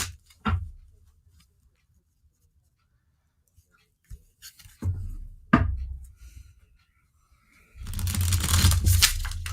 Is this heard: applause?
no